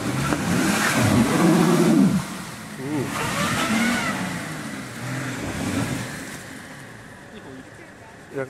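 A BMW car on a rough off-road rally track revs hard and loudly, its engine rising and falling in surges before fading toward the end, with voices talking over it.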